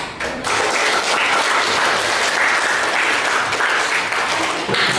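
Students in a classroom applaud after a group presentation, a dense burst of clapping from many hands that starts abruptly and holds at a steady, loud level throughout.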